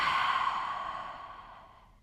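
A single long, breathy exhale through the mouth during a guided breathing exercise, close and fairly loud at first and then slowly fading out, with no talking.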